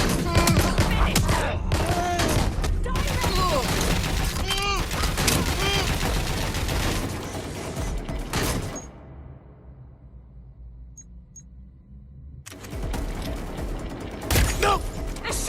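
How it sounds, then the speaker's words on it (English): Dense, rapid gunfire from the video game Watch Dogs Legion rattles over shouting voices, breaks off into a near-silent lull, then bursts back in loudly. "They're shooting!"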